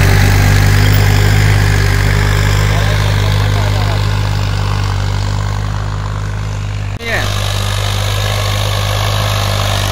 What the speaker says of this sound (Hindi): ट्रैक्टर की आवाज देखो